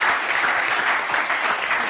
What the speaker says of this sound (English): A big applause again.